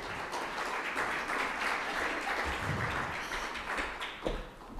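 Warm audience applause in a plenary hall at an investors' forum on fiscal policy and jobs financing, greeting Uganda's Deputy Finance Minister: a dense, even patter of many hands, moderately loud and unbroken.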